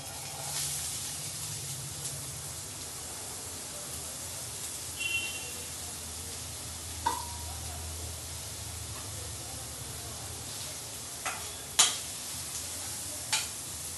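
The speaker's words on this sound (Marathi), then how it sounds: "आता आपण कांदा टाकून घेऊया।" Chopped onion goes into a hot pan with two spoons of oil for a homemade pizza sauce, giving a soft, steady sizzle with a few sharp utensil clicks and scrapes against the pan, fairly quiet and without talk.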